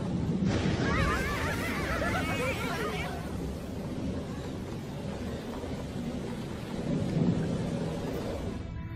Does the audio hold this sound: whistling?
no